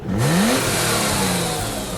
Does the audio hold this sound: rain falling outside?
no